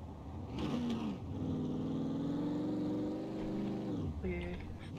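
Car engine driving through a snowy area in the survival video game SCUM, a steady droning motor with shifting pitch that lasts most of the span, fairly loud, then tapers near the end.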